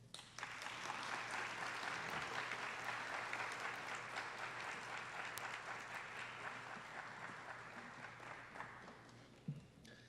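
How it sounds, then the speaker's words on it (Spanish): Audience applause at a Spanish national arts, science and literature awards ceremony, a full, even roar of clapping that swells quickly, holds steady and tapers off near the end. "Creo que ese aplauso se ha quedado un poco corto"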